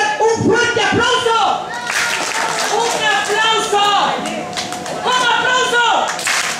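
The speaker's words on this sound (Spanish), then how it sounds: "quiero escuchar un fuerte aplauso." Guests at a children's birthday party clap together, loud and close, with a voice talking and calling out over the applause and some children's voices mixed in.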